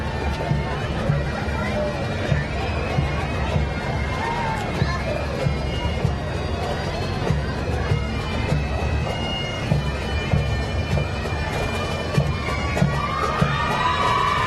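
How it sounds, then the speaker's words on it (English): A crowd of spectators at the Bakersfield Christmas parade cheers steadily through the stretch, with children's shouts and a dense babble of voices under it. "Getting a nice cheer from the audience."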